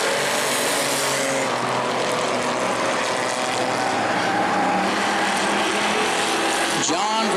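Bomber-class race cars roaring around the oval at New Smyrna, a steady dense engine din throughout with a race commentator talking over it.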